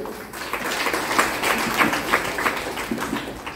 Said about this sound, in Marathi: सगळ्या महिलांनी एकदा टाळ्या वाजवून सावित्रीबाईंना प्रणाम केला पाहिजे.